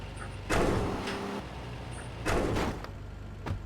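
Heavy garage doors in Grand Theft Auto: Vice City bang shut twice, each a loud broadband slam with a short rumbling tail over steady low engine and ambient game noise, followed by a fainter third knock.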